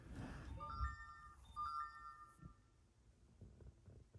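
A mobile phone plays a short, bright melodic ringtone in two repeated phrases. It sounds soft and slightly distant in a quiet ASMR setting, with faint rustling and no speech.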